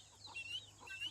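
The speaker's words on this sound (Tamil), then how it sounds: "கிண்ணி கோழிங்களுக்கு வந்து அந்த சவுண்டு வந்து ஓரளவுக்கு மாறிடுச்சு" Guinea fowl chicks call faintly in short, high chirping peeps, a few scattered notes over a low background hum, with no talking.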